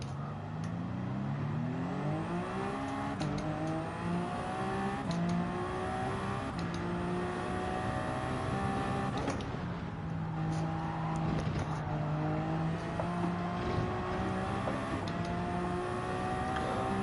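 GR1 prototype race car in Gran Turismo 7 during online lobby racing, a loud high-pitched engine whine climbing repeatedly through the gears with brief shift breaks, sustained throughout with no talk.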